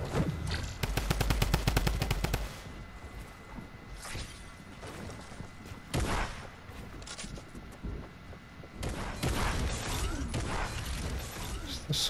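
Rapid bursts of automatic gunfire in a video game rattle loudly for about two seconds, followed by scattered single shots and clatter over the rest of the stretch.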